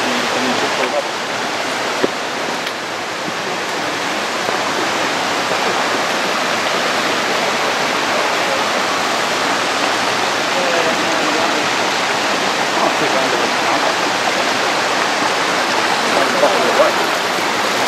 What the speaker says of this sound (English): Okay, we reach the waterfall now.